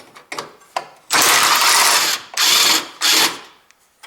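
A power ratchet or driver loosens a bolt on a Honda Civic headlight assembly, with a few short clicks followed by three loud, close whirring bursts separated by brief pauses.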